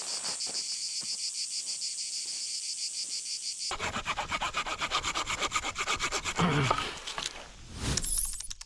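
A hand saw rasps through wood being cut for a raft in quick repeated strokes, steady rhythmic back-and-forth scraping, close by, ending with a crack as the piece gives way.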